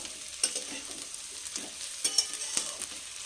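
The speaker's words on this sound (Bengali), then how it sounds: "এ দেখো পেঁয়াজগুলো ভাজা হয়ে গেছে লাল লাল হয়ে গেছে" Steady sizzling of onions frying in a pan, with occasional sharper crackles and stirring scrapes throughout, close up and moderately loud.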